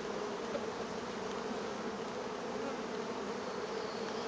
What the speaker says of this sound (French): un faux bourdon